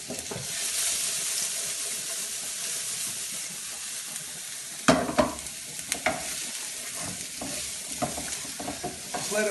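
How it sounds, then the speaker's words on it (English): Garlic and onion fry in a pan for a pasta sauce, a continuous close sizzle and hiss that gives way to several sharp stirring scrapes and clacks in the second half, without any speech. "what you next want to add is just some onion. We'll let that cook along for a little bit."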